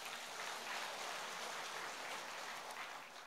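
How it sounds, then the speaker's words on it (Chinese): Audience applause welcomes a speaker at a Buddhist gathering in Paris, a dense, even patter of clapping that stays steady for a few seconds before easing off. "让我们掌声欢迎。"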